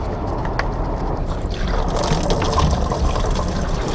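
Engine coolant drains out of a 1.8T engine as it is being pulled, a steady splashing trickle of liquid that grows slightly fuller partway through, close by with no talking.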